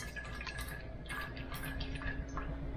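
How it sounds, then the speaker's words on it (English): Sixty grams of water poured into a sourdough starter jar for a feeding gives a quiet, steady trickle with faint drips over a low background hiss. "So now we're going to take 60 grams of water"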